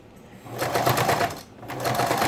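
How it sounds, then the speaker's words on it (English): A sewing machine runs a quick quarter-inch stitch around the edge of a fabric face mask with elastic ear loops, its steady close whirring rising in two bursts with a short pause between them. "we're going to finish this up by just doing a quick stitch at a 1/4 inch all the way around"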